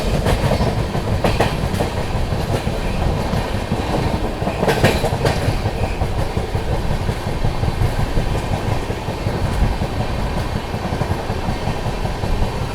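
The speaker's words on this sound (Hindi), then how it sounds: "फिलहाल अपनी गोरखधाम सुपरफास्ट एक्सप्रेस स्किप कर रही है बुरवल जंक्शन को" Heard from on board the 12556 Gorakhdham Superfast Express as it slows and runs through Burwal Junction without stopping: a steady, loud rumble with rhythmic clickety-clack of wheels over rail joints, continuous throughout with no talk.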